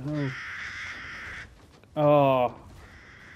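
Crows in Resident Evil Village give two harsh, loud caws separated by a short pause, close and clear, with a faint voice murmuring briefly between them.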